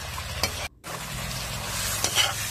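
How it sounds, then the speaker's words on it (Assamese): Tomatoes frying in a pan over a fire-heated kitchen hearth, with a steady close sizzle broken by scraping stirs and a brief pause in the sound. "বিলাহীখিনি দি পেলাই ভাজিবলৈ থৈ দিওঁতে আৰু কমি পেলাই এনেকুৱা হয়"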